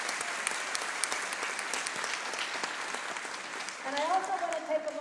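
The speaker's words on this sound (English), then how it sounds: "So I just want to applaud you for that." Steady applause from a seated audience at a talk by someone, with a voice starting to speak over the clapping near the end.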